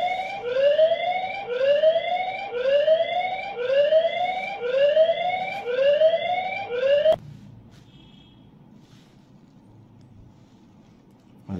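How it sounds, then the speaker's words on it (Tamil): A security camera's electronic siren alarm wails in repeated rising sweeps, about six cycles, then cuts off abruptly, leaving a quiet background. "சைரன் மோட் ஆன் ஆகிடும். ஸோ சைரன் சவுண்ட் வரும்."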